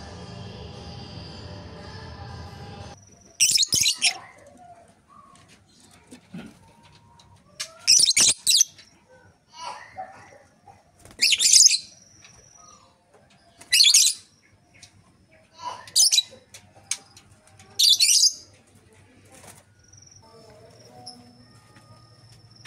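Lovebirds in an aviary give sharp bursts of high chirping, about seven separate clusters a few seconds apart over quiet background, fairly close and loud against near silence, after a short low rumble at the start.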